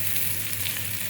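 Pointed gourd frying in oil in a pan, an even hissing sizzle with light crackle, close and continuous, with a low steady hum beneath.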